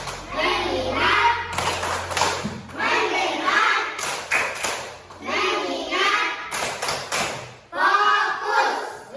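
Classroom of children performing the rhythmic 'tepuk fokus' clapping game, bursts of patterned hand claps and thumps alternating with a teacher's chanting voice and kids' voices in short repeated phrases.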